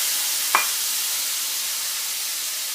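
Tomatoes cooking in bacon fat in a hot pan, a soft, steady sizzle and hiss with one brief stir or clink near the start, no talking.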